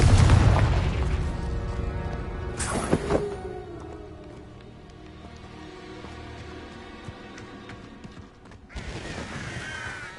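The Confringo fire spell from Hogwarts Legacy erupts in a heavy boom that rolls off into a long fading rumble, followed by a second burst near the end.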